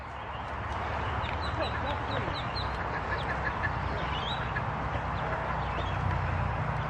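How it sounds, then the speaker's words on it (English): Ducks quacking in short bursts, close by, amid steady wind and road rumble outdoors near a hill, with bikers voices talking over them. "So he's got some more ducks."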